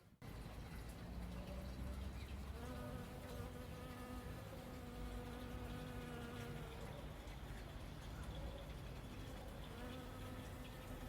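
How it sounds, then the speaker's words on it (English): Bees buzz around a Tahitian lime tree, a steady close hum with several wingbeat tones that rise and fade as individual insects pass near, continuous throughout. "Very busy little bees today."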